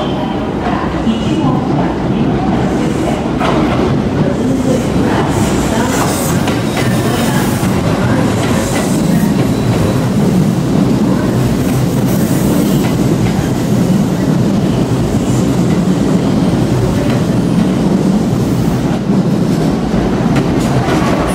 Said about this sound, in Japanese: 黄色い線までお下がりください電車は参ります